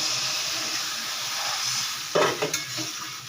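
A hot pan of shrimp and taro curry hisses with a steady close sizzle until water is poured in, setting off a sudden louder burst of crackling and steam that fades in short surges, with no voices.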